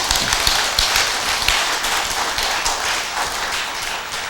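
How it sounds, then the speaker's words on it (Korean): An audience at a Korean Buddhist temple talk claps together in a dense, sustained round of applause, steady and fairly loud with no voices over it, tapering slightly toward the end. "박수 쳐야지, 그럼 여러분들 위해서"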